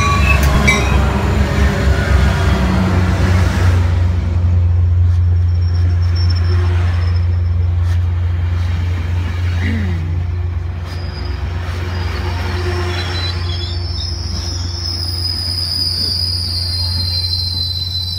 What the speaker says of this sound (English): think I can see the train coming?